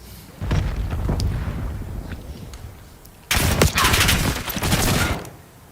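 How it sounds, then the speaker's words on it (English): Bursts of gunfire in a competitive Call of Duty search-and-destroy match, one rattling volley followed by a louder, denser stretch of rapid shots, sharp and close. "Shots towards XDid, now has Kismet thinking he may have an opportunity to find first blood through the front"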